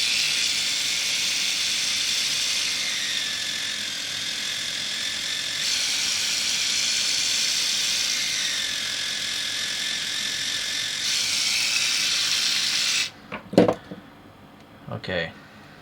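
A Dspiae ES-A cordless reciprocating pen sander works into a corner with a steady, close, high buzzing whine for about thirteen seconds. It then cuts off, followed by a few sharp handling clicks and knocks.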